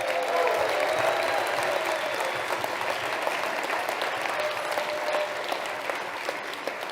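A seated audience at a winter speaker series gives donors a warm round of applause, continuous even clapping from a large crowd filling the room, with a few faint voices beneath.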